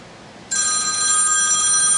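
A telephone begins ringing abruptly after a brief quiet pause, a loud steady electronic ring tone sustained to the end, nearby and alone.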